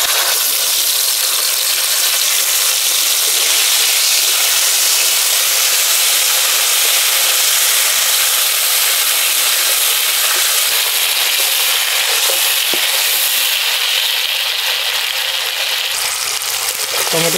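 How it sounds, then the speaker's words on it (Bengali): Tomato paste fries in a pan with black cumin seeds, giving a loud, close, continuous sizzle and hiss that stays steady throughout. "টমেটোর কাঁচা গন্ধ যাওয়া অবধি ভেজে নেব।"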